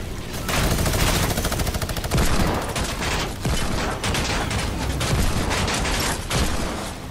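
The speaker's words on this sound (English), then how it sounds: "I think he has a minigun." Minigun fire in an air royale shooter game, a loud continuous buzzing stream of rapid shots held for several seconds with brief breaks, nearly alone.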